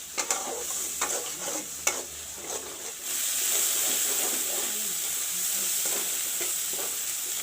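Masala fries and browns in a pan with a close, steady sizzle. Several sharp stirring scrapes come early, then a loud, continuous hiss takes over, with no voices.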